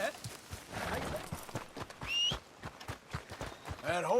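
Horse hooves clip-clop in an uneven rhythm alongside short whinny-like tones, with other game sounds mixed in, moderately quiet, in Red Dead Redemption 2.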